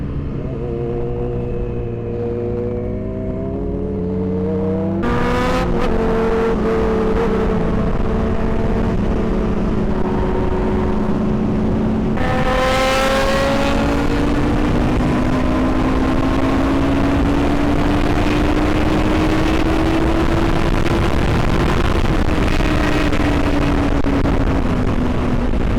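A Yamaha R6 motorcycle engine roars loudly and continuously on the road, with rising and falling revs, upshifts and a steady high drone from close by, and no talk.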